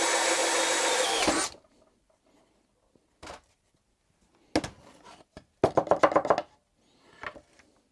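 A power drill boring large holes through a wooden engine control panel, heard as a loud burst at the start followed by several short, separate bursts of drilling with pauses between them, close by and without talk.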